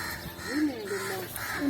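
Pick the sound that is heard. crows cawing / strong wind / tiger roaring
crows cawing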